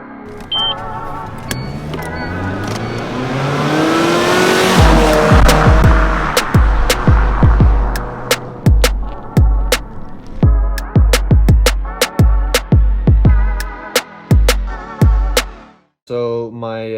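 A car fitted with a custom straight-pipe single-exit exhaust and a 2.5-inch Vibrant resonator revs up in a rising sweep, then fires a rapid string of loud, sharp pops and cracks close by.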